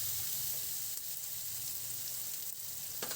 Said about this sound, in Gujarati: આ રીતે વઘાર કરી.